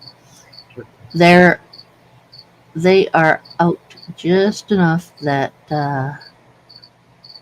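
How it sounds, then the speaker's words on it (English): Crickets kept for feeding a lizard, chirping in short regular high pulses in the background while a person talks loudly over them. "I keep hearing the crickets."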